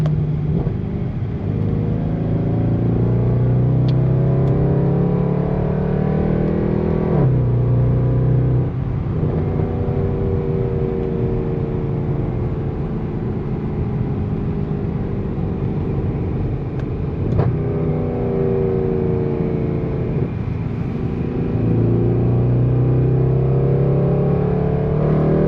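A Mercedes C63 AMG 507 Edition engine roars steadily as the car accelerates in manual mode, with repeated rising revs broken by brief dips at each gear change, loud and continuous with no talking.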